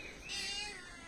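A kitten gives a single drawn-out meow, clear and close in a quiet home, with no talking.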